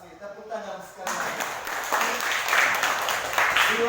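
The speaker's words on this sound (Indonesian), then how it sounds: "Tepuk tangan sekali." Classroom audience of teachers and students clapping together during a lesson, starting abruptly after a brief voice and continuing as brisk, close, sustained applause.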